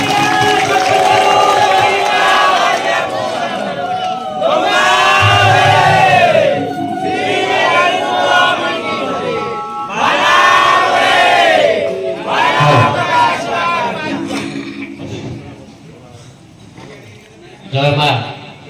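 A large crowd at a danda nacha festival in Odisha roars and shouts in loud, surging waves of cheering voices, rising and falling over several seconds, close and continuous.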